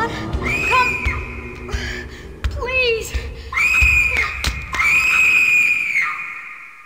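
Screams and shrieks from The 7th Guest video game, several long high wails rising and falling, with sharp cries in between, loud and close.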